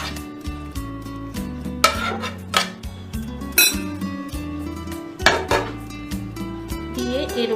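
Raw chicken poured into a metal pot set over hot charcoal with ghee, with clinks, scrapes and knocks of utensils against the pot at an irregular pace, close and moderately loud.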